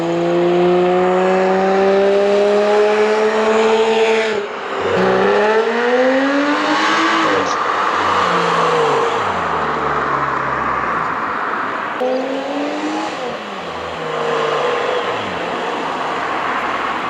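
A Subaru Outback with an H6 engine and straight-pipe exhaust driving past loud and close, its revs climbing in rising howls, briefly dropping at gear changes, then trailing off as it passes.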